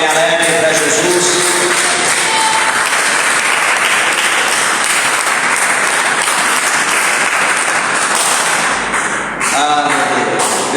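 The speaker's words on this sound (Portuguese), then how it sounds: "Quem pode dar uma salva de palmas bem alegre para Jesus?" A church congregation breaks into loud, cheerful applause, a sustained, dense roar of clapping hands lasting several seconds near and full, dipping briefly before surging again, with voices faintly mixed in.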